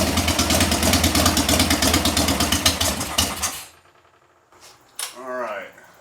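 A chopper motorcycle engine idling loudly right after start-up, with its idle set too high, a steady dense rumble and clatter that cuts off abruptly, followed by faint voices.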